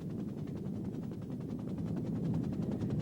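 A helicopter used for oil exploration in the Colombian jungle drones steadily with a low, rapid rotor chop, a continuous moderately loud engine rumble with no pauses and no speech.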